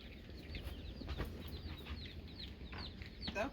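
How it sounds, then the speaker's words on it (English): Ten newly arrived chickens cluck softly and irregularly at close range, with faint bird calls and low background rumble. "10 chickens."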